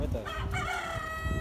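A non-local breed chicken calls close by with a short, loud, tonal vocalization rising and falling over about a second, with little else around it.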